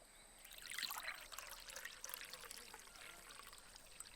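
Tea poured into a cup, a soft close trickling stream of liquid that swells early then settles into a gentle continuous dribble, quiet and intimate, no talking.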